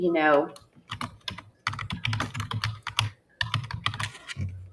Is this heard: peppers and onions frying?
no